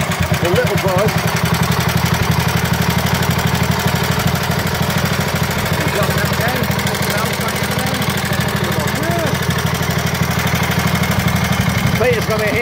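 A 1934 BSA B34 250cc single-cylinder motorcycle runs steadily nearby, a rapid even thumping idle throughout, with people talking over it.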